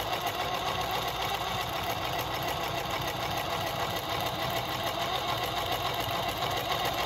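A Consew 146RB-1A-1WS industrial zig-zag sewing machine stitches at a fairly steady pace, giving a continuous mechanical hum and fast rattling motor sound, heard close with no talking.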